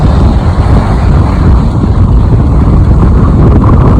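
Strong 20-knot wind roars steadily over a sailing boat beating upwind under staysail and full main, a loud, constant low rush buffeting the microphone with no pauses and no voices.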